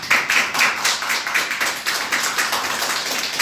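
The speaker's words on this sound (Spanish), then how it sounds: "¿Cuántos pueden dar un fuerte aplauso al Señor?" A church congregation claps for the Lord during a service, producing rhythmic, fairly even clapping that pulses steadily at a moderate level, with no speech over it.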